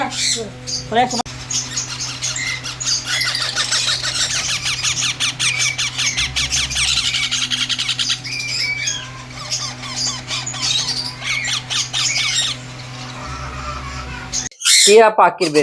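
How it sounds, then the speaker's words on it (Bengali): Parakeet chicks at a bird market squawk and squeak in rapid, dense bursts close by, a near-continuous chatter of shrill calls over a low background hum, cutting off abruptly near the end. "এখানে টিয়া পাখির বেবি"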